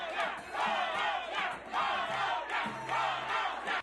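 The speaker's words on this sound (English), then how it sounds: "Throughout the night, we saw many fans cheering for their country" Colombian and Argentinian fans at a Copa América final watch party, a dense roaring crowd with rising and falling waves of cheering and chanting, loud and continuous throughout.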